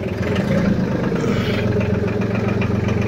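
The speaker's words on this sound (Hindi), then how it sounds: "ये देखो जी आवाज़ बहुत प्यारी है ट्रैक्टर में" A 28 HP 2021-model tractor engine idles steadily at close range, a continuous low throbbing rumble with no talking over it.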